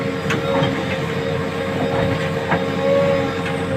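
A tractor engine runs in a steady, loud, tonal hum with faint rhythmic clanks over the top, close by and uninterrupted, as it is loaded with earth while a JCB digs a drainage trench on a farm.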